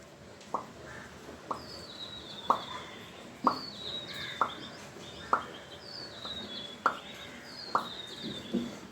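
A voice imitates water dripping into a bucket: about ten sharp, evenly spaced plinks, with faint bird chirps in the background.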